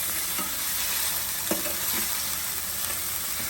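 Grated coconut frying in a pan for coconut milk payasam, a steady soft sizzle with faint scraping stir clicks, close and even throughout with no voices.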